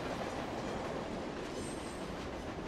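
Train rolling steadily on rails in a scene from the video game 428: Shibuya Scramble, a continuous close rumble with faint wheel squeal, loud and unbroken throughout.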